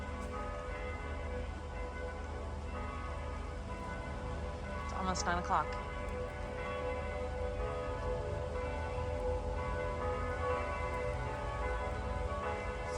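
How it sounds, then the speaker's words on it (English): Church bells ringing in a snowy Salzburg old town, faint and distant beneath a voice speaking close by, with one brighter burst of chiming partway through over a soft outdoor hush. "Listen to the bells."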